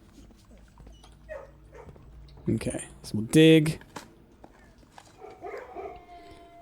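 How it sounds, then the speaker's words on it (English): A puppy in the Blue Prince video game whimpers and gives a short burst of yips and barks, with someone talking quietly before and after. "Puppy."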